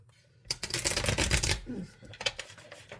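Cards riffle in a quick, loud burst of dense flutter, then a few softer taps and slides as the deck is squared up.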